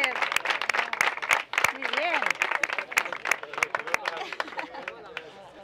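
An outdoor race crowd in Villacañas, Spain, claps for the race winners, brisk scattered applause mixed with lively voices and chatter from people standing close by.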